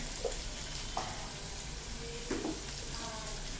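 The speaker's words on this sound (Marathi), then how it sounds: "हे छान मस्तपैकी कांदा सोनेरी रंगावरती परतून घ्यायचा" Chopped onions fry in a pan for a spiced drumstick curry, a steady soft sizzle with a few faint utensil scrapes, close and fairly quiet, with no talking.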